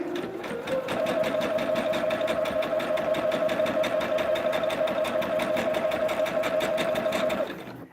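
A sewing machine runs steadily and loudly for several seconds, tacking a quilt block's foundation onto fabric with a fast, even stitching whir that starts and stops cleanly.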